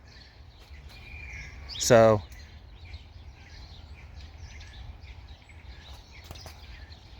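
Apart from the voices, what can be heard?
bird calling outside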